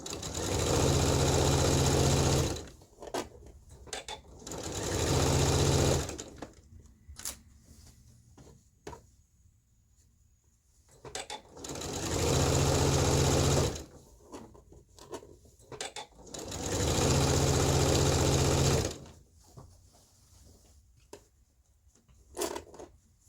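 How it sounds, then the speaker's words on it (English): A sewing machine stitches a dress in four loud, close bursts of steady whirring, each lasting a few seconds, with quiet clicks and handling noises in the pauses between them. "I'm gonna stitch over my pin."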